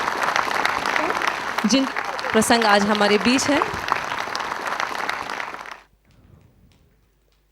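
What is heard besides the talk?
audience applause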